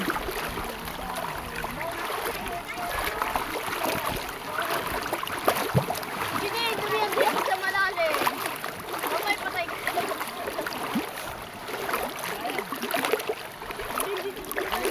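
Splashing from people wading across a river in thigh-deep water, steady sloshing and swishing strides with trickling, while voices talk over the water noise.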